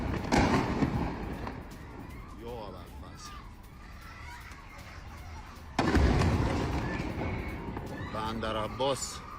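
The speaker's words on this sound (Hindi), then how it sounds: "ये देखिए आप एक के बाद एक जो धमाके हो रहे हैं।" Repeated booming explosions from strikes on Iran, some far off and some closer, with a large blast partway through, under an ongoing background of voices.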